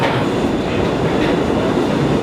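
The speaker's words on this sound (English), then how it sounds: "we had my first experience on the subway" A New York City subway train rumbles loudly and steadily, with a rhythmic clickety-clack of wheels on the rails throughout and no voices.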